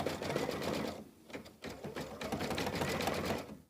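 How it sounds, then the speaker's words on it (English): A sewing machine stitches ribbon in place on a small quilt vase block. Its needle whirs in rapid, steady bursts, briefly pausing near the one-second mark before running again, close and clear with no talk. "it's going to stitch the ribbon in place"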